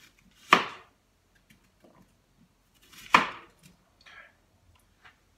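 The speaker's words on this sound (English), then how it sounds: "So we're just going to cut this onion into chunks." A knife chops an onion into chunks on a cutting board, two sharp, close thuds about two and a half seconds apart, then a faint lighter cut, in a quiet room with no talk.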